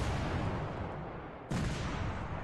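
Bombs exploding in the combat simulation game Command: Modern Operations, a broad rumbling blast that swells, dips, then a second sharp impact hits and rumbles on loudly.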